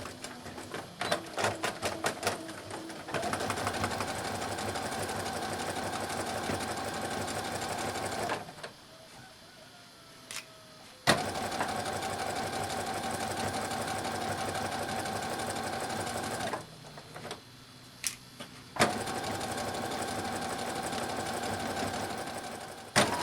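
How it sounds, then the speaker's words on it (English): A sewing machine runs steady straight stitches through apron fabric, humming continuously for long stretches and pausing briefly twice before resuming, with no talking. "take this to the sewing machine, and we're going to straight stitch at 5/8 inch all the way around the curved area"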